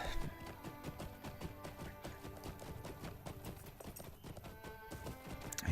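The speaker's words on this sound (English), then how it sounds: "some idiot's going to come riding his horse through there" A horse ridden in the online game Lord of the Rings Online clip-clops along in a steady rapid rhythm of hoofbeats, fairly close and clear, with no one talking over it.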